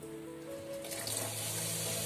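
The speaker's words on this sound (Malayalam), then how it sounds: "ഇച്ചിരി വെള്ളം ഒഴിച്ച് കഴുകി വയ്ക്കാം" Masoor dal lentils washed with water, a steady close trickle and splash of tap water filling and swirling in a vessel, faint and continuous with no talk.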